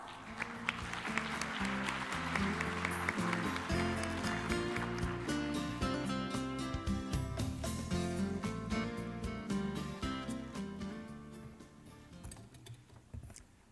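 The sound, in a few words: applause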